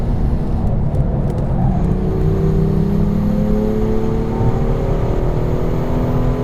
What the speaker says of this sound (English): I can floor it pretty much on the apex, and there's traction and grip and poise.